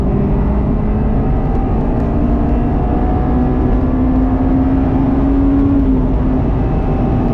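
A Honda S2000's high-revving VTEC engine pulls hard, heard from inside the cabin as a loud, steady, rising drone with a climbing tone that holds for several seconds and then eases.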